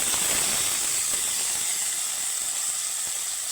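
Tomatoes and curry leaves frying in a pan, a steady bright sizzle and hiss that stays even and moderately close throughout, with no voices.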